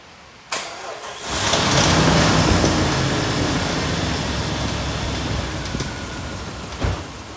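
A Jeep engine with dry lash adjusters cranks briefly, catches, and settles into a loud, rough idle with a steady ticking clatter. A sharp knock sounds near the end.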